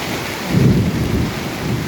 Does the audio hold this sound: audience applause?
no